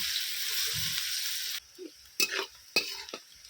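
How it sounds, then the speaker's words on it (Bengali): Onions frying in oil in a pan until golden for a potato chicken curry: a bright steady sizzle that drops away, followed by a few sharp spatula knocks and scrapes against the pan, no talking. "এবারে পেঁয়াজটাকে আমি গোল্ডেন করে ভেজে নেব"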